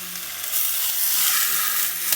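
Rolled pork loin 'Spanish birds', tied with string and packed tightly in a pan, fry with a steady, fairly loud hiss of sizzling fat that swells slightly midway, with no voices.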